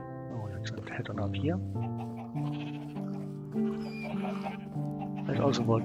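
Sheep bleat in the Minecraft video game, several wavering cries spread across the stretch, heard under steady talk from a player.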